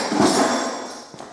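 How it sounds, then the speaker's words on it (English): A rubber hammer banging the front axle out of a Yamaha WR250R motorcycle during a supermoto conversion, a couple of dull, close thuds within a brief burst of ringing metal. "I like to cheat by using a rubber hammer. Just bang that axle out easier."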